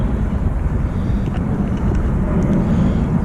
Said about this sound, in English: Just waiting for that aircraft to go over.